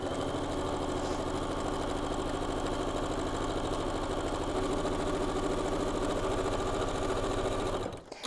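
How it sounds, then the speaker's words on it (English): A sewing machine runs steadily while stitching a quilt block of fabric, a continuous close, loud mechanical whir with a fast stitching rhythm that carries for about eight seconds and cuts off at the very end. "Try not to sew as fast as I normally do"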